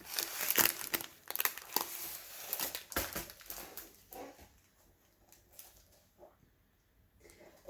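A new diamond painting canvas is pulled from its plastic packaging, making loud, close crinkling and rustling in busy bursts that fade to softer, sparse handling noises.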